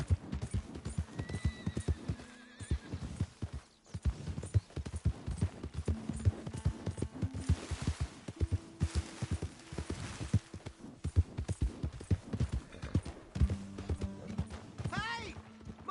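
Horse hooves clip-clop at a walking pace in the video game Red Dead Redemption 2, with a couple of whinnies and neighs, while a voice speaks over parts of it.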